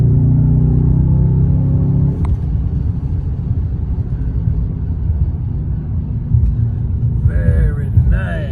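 A 2018 Mercedes S63 Bi-Turbo V8 launches from a low idle into a deep, loud engine roar that rises steadily as the car accelerates, heard from inside the cabin, with a voice briefly speaking near the end.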